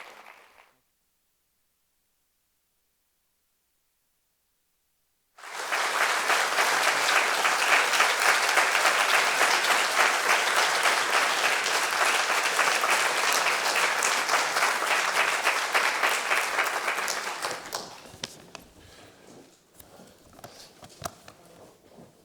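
An audience gives a lecture speaker a loud round of applause in a hall. It starts abruptly after a few seconds of silence, holds dense and sustained for about twelve seconds, then thins to scattered claps.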